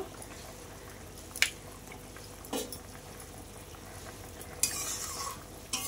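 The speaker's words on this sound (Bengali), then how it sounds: "দেখো এই পর্যায়ে দুটো লঙ্কা ফাটিয়ে দেবো।" Split green chillies go into a hot frying pan while a spicy bhola fish curry cooks: a few soft scattered clicks, then a short, close burst of sizzling near the end, with no talking.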